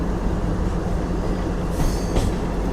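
A train passes on the Chennai–Mumbai main line at Yerraguntla Junction railway station with a continuous close rumble of wagons, and brief wheel squeals cut through about two-thirds of the way in.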